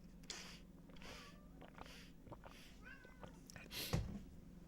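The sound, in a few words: cat meowing during live stream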